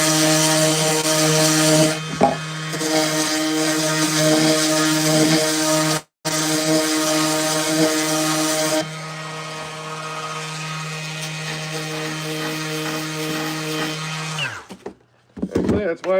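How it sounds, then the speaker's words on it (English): Power sander working a purple heart, maple and padauk cutting board, a loud steady motor drone with a strong hum that cuts out briefly twice and trails off near the end, with occasional talk. "that's why I got this sander out"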